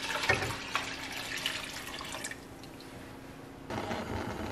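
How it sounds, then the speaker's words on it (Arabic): Water runs from a tap into a cooking pot being filled for boiling barley, a close splashing and trickling stream that stops briefly and then resumes, with no talk. "جدر مثل هذا وراح نضيف المي"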